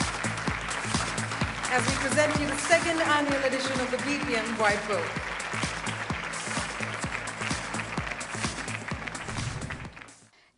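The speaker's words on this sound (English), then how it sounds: "let's all come together with a thunderous round of applause" Audience applause at the BPM India Summit 2015 business event in Mumbai: scattered, busy clapping runs under a presenter's amplified announcement, then fades out at the close.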